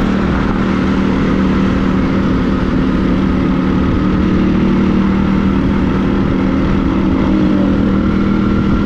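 Motorcycle engine under way on a foggy morning road trip, a steady continuous drone with low harmonic hum and broadband wind rush, loud and close throughout with no talk.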